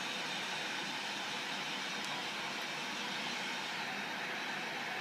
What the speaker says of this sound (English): It makes all the noises that you are supposed to hear on an aircraft.